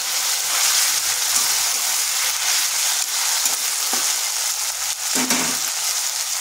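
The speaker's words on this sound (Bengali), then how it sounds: "দিয়ে দিচ্ছি একটা পেঁয়াজকে পেস্ট করে নিয়েছি, দিয়ে দিচ্ছি আদা রসুন পেস্ট" Onion paste and ginger-garlic paste fry in a hot pan with a dense, steady sizzle close by, broken by a few soft stirring knocks.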